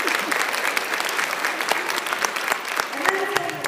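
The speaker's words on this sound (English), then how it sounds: "Everybody give her a round of applause." A seated crowd at a sales event claps in a round of applause, dense and steady throughout, with some voices and a few louder close claps breaking through near the end.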